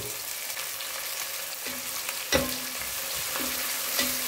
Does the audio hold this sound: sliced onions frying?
yes